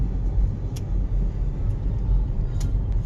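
A car drives along a road in Davao del Sur, a steady loud low rumble of engine and tyre noise heard from inside the vehicle, with a few faint ticks.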